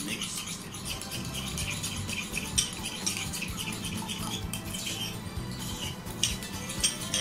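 Katsu sauce being stirred with a utensil in a bowl, a steady run of close scraping and light clinking that continues without pause and without talk.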